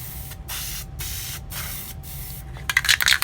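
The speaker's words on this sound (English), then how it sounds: "So I'm going to go ahead and spray those up." Short bursts of spray paint hiss onto Jeep Wrangler fender liners, several steady sprays separated by brief pauses, ending in sputtering, uneven spurts as the can runs low.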